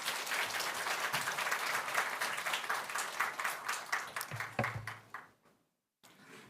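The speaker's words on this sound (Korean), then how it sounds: "격려하고 환영한다는 의미로 박수로 맞이하겠습니다." Congregation applauding during a Korean church Sunday worship service to welcome a visiting pastor; dense, lively clapping that thins out and stops near the end, followed by a short silence.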